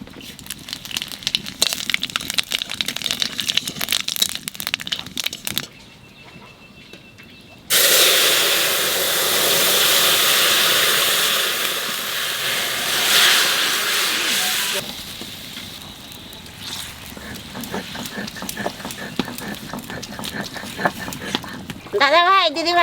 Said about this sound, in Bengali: তেলের মধ্যে দিয়ে দেবো জিরে আর তেজপাতা।